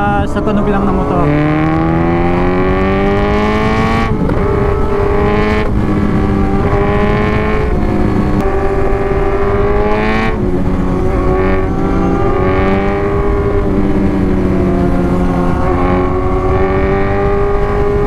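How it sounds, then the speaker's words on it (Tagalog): Motorcycle engines, including a Z1000, drone loudly while riding in traffic near Vigan, steady and close, rising and falling through gear shifts, with a car passing now and then. "Ang sarap nilang sundan kasi yung mga tunog ng motor eh."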